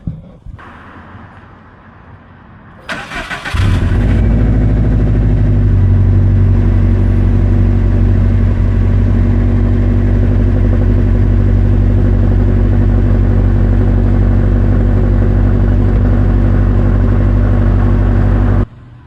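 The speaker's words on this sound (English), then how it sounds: "Let me go ahead and set this up for a cold start for you guys." A car engine is cold-started after a few quiet seconds: a brief crank catches into a loud, steady, low idle that runs on evenly until it cuts off at the end.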